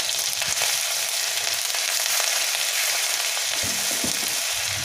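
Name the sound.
grated ginger frying in hot oil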